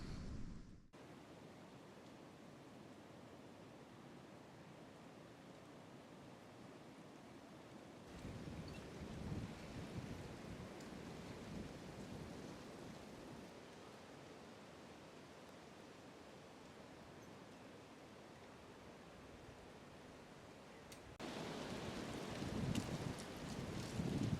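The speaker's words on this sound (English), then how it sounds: "that rain's blowing in right now" Wind and blowing rain roar outdoors during a New York archery deer hunt, a steady broadband rush that swells louder in gusts partway through and again near the end, with no talk.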